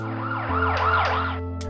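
A high-pitched ambulance siren wails in sweeping rises and falls, loud and steady with no voices, as the emergency vehicle approaches.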